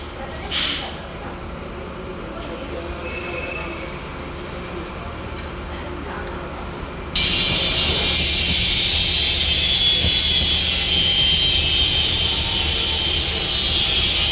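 A Kutojaya Selatan train, double-headed by CC201 and CC206 locomotives, shunts in reverse into track 4 at Kutoarjo station. A rumbling approach gives way to a loud, sustained roar of passing cars and wheels, and a voice speaks briefly.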